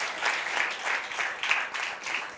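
A church audience at an Independence Day gathering claps steadily and briskly, a full, even wash of hands at moderate volume.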